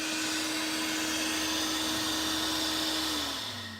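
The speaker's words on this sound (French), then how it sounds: "Par exemple, ici, vous avez 2 imprimantes 3D," Two 3D printers running side by side in a jewellery workshop, giving a steady, loud mechanical whir with a constant hum that holds evenly and then winds down slightly at the end, with no talking.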